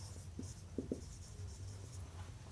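Equations for a geometry proof about a parallelogram's diagonals are written by hand, giving faint, close scratching strokes with a few brief taps over a steady low hum and no speech.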